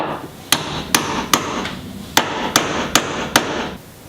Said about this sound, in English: we're just going to take the hammer, give it a couple taps